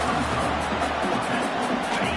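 Stadium crowd in a football video game cheering for the defense on a big third down, a broad, steady roar of many voices, loud and unbroken, with a commentator talking over it.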